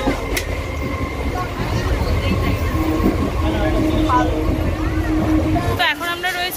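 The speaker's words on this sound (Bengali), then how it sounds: "ট্রেন ঢুকছে, নৈহাটি ট্রেন।" A Naihati local train pulls into Sealdah station with a loud, steady rumble and a squeal near the end, while voices talk over it.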